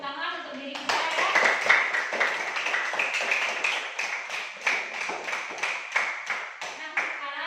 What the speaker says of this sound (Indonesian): Mari kita berikan tepuk tangan untuk diri kita ya.